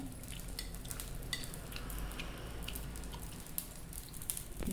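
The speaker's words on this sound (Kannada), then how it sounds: "ಸ್ವಲ್ಪ ಸೆಟ್ ದೋಸೆ ರೀತಿ ಹಾಕ್ಕೊಳ್ಳೋಣ ಸ್ವಲ್ಪ ಎಣ್ಣೆ ಹಾಕ್ಕೊಳ್ಳೋಣ" Sprouted ragi millet dosa cooking with oil on a hot pan, a faint steady sizzle with soft crackles and occasional light ticks, quiet and without any voice.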